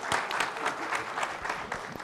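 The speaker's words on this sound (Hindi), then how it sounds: "जोरदार तालियां." Dense, lively audience applause fills the hall at a film music release event for Mr Kabaadi, a steady wash of many hands clapping with no voices on top for about two seconds.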